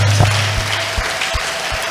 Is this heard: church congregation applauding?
yes